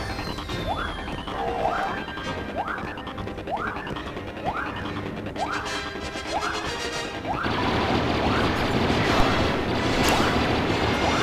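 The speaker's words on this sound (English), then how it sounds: "That was an explosion." Explosions in the Star Wars Battlefront II battle game come as a rapid series of loud crashing booms, one after another, giving way to a dense roaring wash of blasts and debris.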